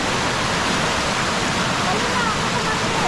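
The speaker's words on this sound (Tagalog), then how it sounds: "lakas ng baha, ay wala namang ulan" Strong floodwater rushes with no rain falling, a continuous, loud, even roar of churning water that holds steady from start to finish.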